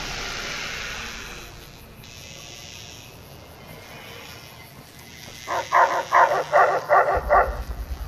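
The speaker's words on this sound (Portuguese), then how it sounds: "Tem vários cachorros aqui" Dogs bark in the Fallout: New Vegas video game, with a rhythmic run of about seven close, loud barks near the end over a steady hissing game ambience.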